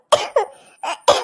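A woman, a mother on the phone, coughs in several short harsh bursts with brief pauses between them, close and fairly loud, with no talking.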